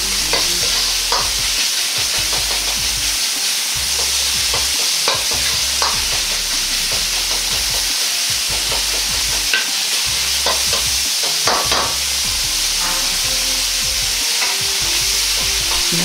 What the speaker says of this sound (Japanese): ひき肉は色が完全に白くなるまでしっかりと炒めていきます